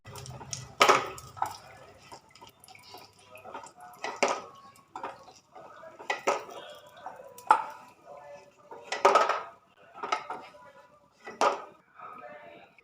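Metal utensil clanks and scrapes against a pan as fried lentil dumplings are lifted out, sharp knocks coming every second or so, close and clear over quiet oil noise.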